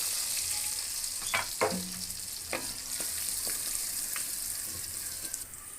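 Green chillies, cumin and turmeric sizzling in hot oil for a masoor daal tempering, a constant bright hiss with a few soft clinks and stirring knocks underneath, no talking.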